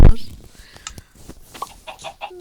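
Chickens in the Minecraft video game cluck in short, close bursts, one after another, while a person talks over them.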